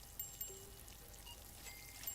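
Running water in a plant nursery simulation game pours and trickles in a soft, continuous stream, quiet and unbroken, with a few faint chimes over it.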